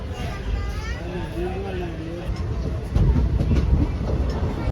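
On board a moving train near Kadapa in light rain, a steady rolling rumble fills the carriage and grows louder for the last couple of seconds, with a voice talking over it.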